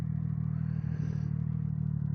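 A Triumph Street Triple motorcycle engine runs steadily while riding, a loud close low drone with a brief dip in the middle and no talking.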